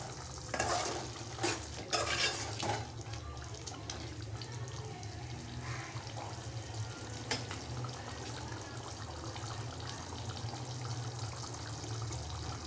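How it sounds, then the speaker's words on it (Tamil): Homemade canned fish curry (tin fish kuzhambu) bubbling in a pot on the stove, a steady low simmering hiss with a few brief clatters of stirring near the start, close and fairly quiet. "குழம்பு நல்லா கொதிச்சிட்ருக்கு."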